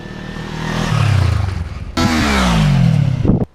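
Kawasaki Ninja 300 motorcycle braking hard from about 50 km/h, its engine note loud and close, dropping in pitch as it slows, a brief blip, then another falling engine sweep that cuts off abruptly.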